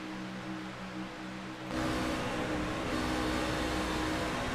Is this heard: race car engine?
yes